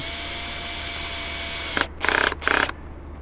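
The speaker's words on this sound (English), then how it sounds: "And I'll get it started with one screw on one side." A drill drives a screw into a wooden board while building a box-joint flower box: after a steady hum, two short bursts of motor whirring, close and fairly loud, with no voices.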